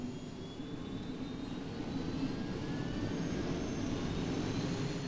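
A military jet engine spools up at engine start on the ground, a steady loud roar with a faint rising whine building gradually, heard alone without talk.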